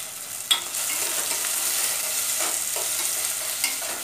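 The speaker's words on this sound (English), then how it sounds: "this also we have to stir for some time so that the carrots and the vegetables become soft" Onions, tomatoes and chopped carrots fry in a pan with a steady bright sizzle, broken now and then by a spoon's scraping stirs and light taps.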